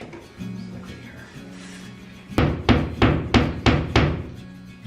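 Five sharp, evenly spaced wooden knocks ring out close by, a mallet tapping a wooden frame onto a wall after a few seconds of quiet rustling.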